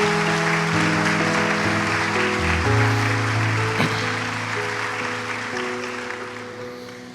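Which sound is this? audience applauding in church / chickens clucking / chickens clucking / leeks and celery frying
audience applauding in church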